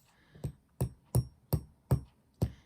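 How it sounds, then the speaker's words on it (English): A mini rubber mallet strikes a wire bracelet link resting on a steel bench block, giving six evenly spaced, close, dull thuds with a brief ring. "keep it on your bench block and then hammer it with your rubber mallet."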